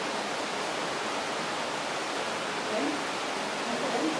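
Spring water flowing out and spilling over stones, a steady hissing rush close by that stays even throughout with no breaks.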